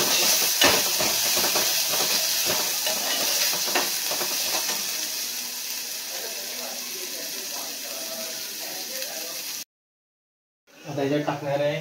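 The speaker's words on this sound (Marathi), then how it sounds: "जीरा, कांदा, परतून घेऊन असं करतात." Cumin and onion sauté in a hot pan while bhaji is being cooked, giving a loud, close sizzle with crackling bursts that gradually settles into a steadier hiss, then cuts off abruptly before a voice briefly speaks.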